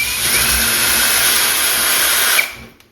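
A power drill whirs steadily as it bores a 5/16 inch hole through drywall for towel bar anchors. The sound is loud and close, runs without a break for about two and a half seconds, then cuts off.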